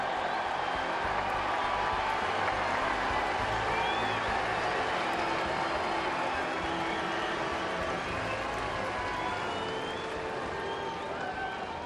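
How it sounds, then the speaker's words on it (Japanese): At a Hiroshima Carp baseball stadium, an audience greets pitcher Kuroda after his 200th combined Japan-US win with dense, sustained applause and crowd noise that stays loud and even throughout. "皆様大きな拍手でお迎えください。"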